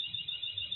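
A fire alarm test sounds in a lecture hall, a steady, loud electronic tone pulsing without a break from start to finish, with faint low room rumble beneath and no voices.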